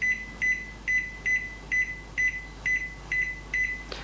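Panasonic microwave oven sounding a steady run of about nine short, bright electronic beeps at an even, quick rhythm over a low background hum, close and alone with no talking.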